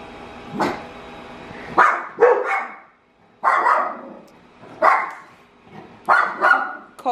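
Dogs bark indoors near a Christmas decoration, giving loud close barks in irregular bursts of one to three, separated by short quiet gaps.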